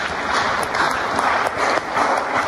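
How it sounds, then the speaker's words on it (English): Steady applause from a church congregation during a healing service, dense continuous clapping filling the room for a couple of seconds with no voices on top. "Clap for Jesus Christ."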